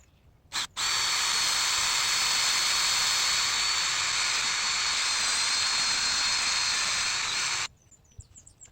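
A power drill bores a hole into a birch tree trunk outdoors to tap sap, a loud steady high whine running for about seven seconds after a brief start, then stopping abruptly.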